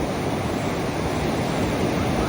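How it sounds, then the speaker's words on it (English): Ocean surf at Black's Beach below the Torrey Pines cliffs in La Jolla, California: a steady, loud broadband wash of breaking waves, with some wind across the microphone and no pauses. "I always hate to disconnect from the ocean. The sound of the water"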